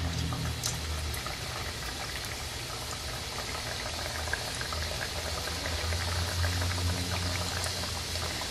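Cream cheese empanadas frying in hot oil at medium heat, a steady bubbling sizzle with fine crackles that continues evenly throughout at moderate volume, without voices.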